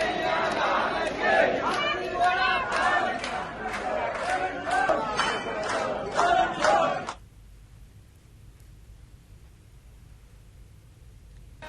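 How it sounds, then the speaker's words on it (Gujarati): Large crowd of devotees packed into a temple courtyard during the Dhuleti festival, a dense, loud roar of many voices and shouts for several seconds that cuts off abruptly into near silence. "મંદિર પરિસરમાં ભક્તોની ભારે ભીડ જામી"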